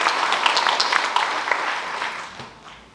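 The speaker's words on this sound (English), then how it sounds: "let's all give a nice round of applause for all of them" Audience applause at a high school graduation fills the space in a dense patter, steady at first and then gradually thinning and fading out.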